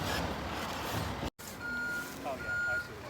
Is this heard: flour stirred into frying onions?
no